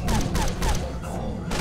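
Repeated bursts of gunfire from a weapon in SOTS: The Pit, a fan mod game, cracking out in several quick volleys at close range with dense low thumps and short gaps between them.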